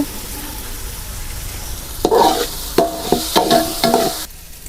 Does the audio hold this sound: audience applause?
no